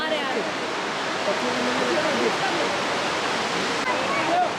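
River water rushes steadily below in a mountain valley near Solang and Manali, a dense, even wash of flowing water that fills the whole stretch without pause.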